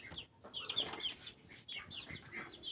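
Several chickens cluck and squawk nearby in a backyard, overlapping bursts of high, scratchy calls at a moderate, fairly quiet level with short pauses between them.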